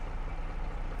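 A tractor engine in Farming Simulator 22 idles and runs steadily, a low continuous rumble with no breaks, close and fairly loud.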